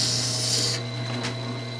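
A chisel being sharpened on a Tormek grinder gives a steady, close grinding rasp, with a continuous low motor hum beneath it.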